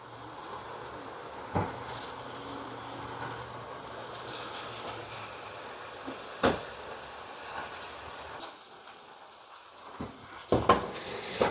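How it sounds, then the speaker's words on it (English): Sausages dropped back into a hot pan sizzle with a steady, soft hiss for sausage and broccoli rabe pasta, broken by a few sharp utensil clanks and taps. "Now I'm going to add the sausages back."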